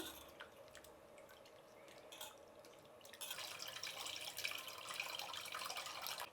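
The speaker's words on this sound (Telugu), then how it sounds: "ఇందులోనే చింతపండు పులుసు కూడా పోసుకునేస్తామండి, బాగా కలుపుకునేసి." Tamarind extract is poured into lentil rasam in a home kitchen, a quiet splashing and dripping that swells into a steadier liquid pour partway through.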